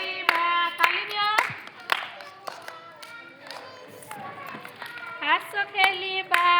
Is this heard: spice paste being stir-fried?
no